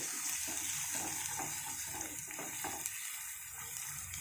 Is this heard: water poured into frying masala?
yes